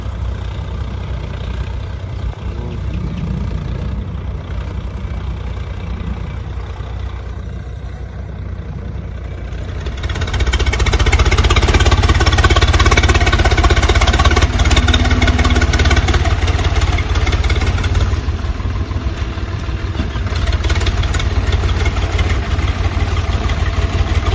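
A tractor engine idles with a steady low rumble throughout, nearby and fairly loud, growing noticeably louder and fuller about midway and holding there.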